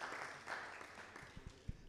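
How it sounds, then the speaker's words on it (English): Scattered clapping from a conference audience after a public health research presentation, a brief, fairly faint ripple of hands with a few sharper claps near the end. "I think you have to give another round of applause."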